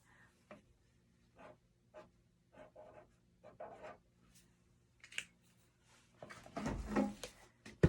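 A pencil scratches out a short word on paper in quick, separate strokes, faint and close, with a few small taps and rustles, ending in louder handling noises.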